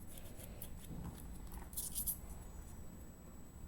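Scissors snip through soft biscuit modelling clay while a fake cake is shaped, a few quiet close crisp clicks over steady low hiss, with no voices.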